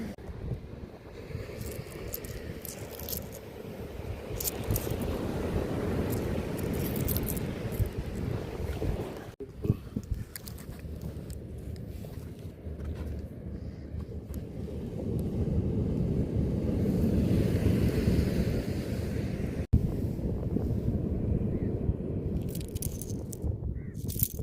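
Sea waves and wind roll across a shore where a backwater meets the sea, a continuous broad rushing wash that swells and ebbs with gusts buffeting the microphone; no speech.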